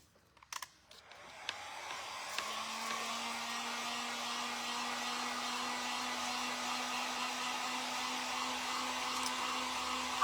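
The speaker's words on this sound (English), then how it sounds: "heat gun and dry them off" A small heat gun dries paint on thrifted pumpkins, starting with a few light clicks and taps before the unit switches on to a steady, close whooshing hum with a constant whine that holds to the end.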